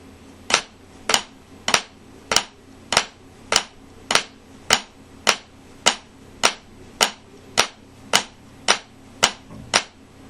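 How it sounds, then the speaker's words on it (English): Snare drum playing tight flams, sixteen sharp, evenly spaced cracks at a steady moderate pace, each grace note almost merged into the main stroke, close and clear with no talking. "I'm going to play 8 more flams, this time with a very tight grace note interpretation"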